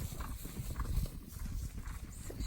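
Horses walk at a slow, irregular pace out in nature, hooves clip-clopping faintly over a soft outdoor background, with no speech.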